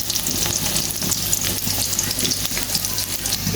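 Onions frying in oil in a kadai, a loud, steady crackling sizzle with scattered pops, heard close up and alone.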